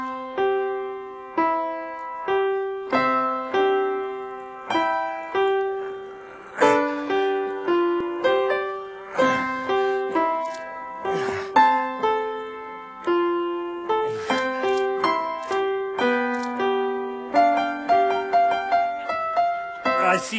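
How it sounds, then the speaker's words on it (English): A 7-year-old child plays the piano, a halting run of separate notes and chords with uneven rhythm and frequent pauses, each key strike ringing out clearly alone for about twenty seconds. "what a 7-year-old child sounds like when he plays the piano"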